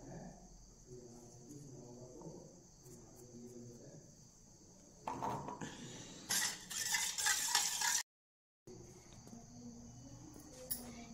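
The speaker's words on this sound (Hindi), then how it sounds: "ये लीजिए एक अंडा और इसको मिलाइए" An egg mixed with a little salt is stirred in a bowl, a quiet tapping that turns into a louder, busier burst of quick whisking and scraping, then a short cut to silence before faint sounds resume.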